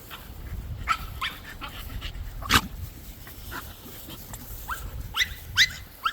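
American Bully puppies nearby give short yelps and whimpers, a few sharper barks among excited panting, unevenly spaced.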